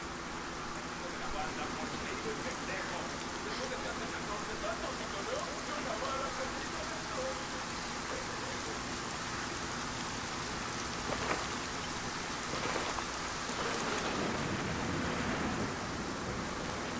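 Steady rain pours down in the Bolivian setting of the video game Ghost Recon Wildlands, a dense continuous hiss with occasional louder spatters and faint thunder-like rumble throughout.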